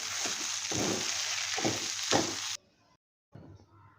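A cooked vegetable dish made from crumbled wheat kurdai, seasoned with coriander, being stirred in a pan: a few scraping spoon strokes over a steady sizzle, close and distinct, then a brief silence and a faint resumption.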